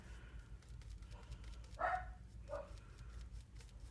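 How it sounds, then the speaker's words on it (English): Several dogs bark faintly in the distance, two brief yelps standing out over a steady low hum indoors. "Sorry about the dogs."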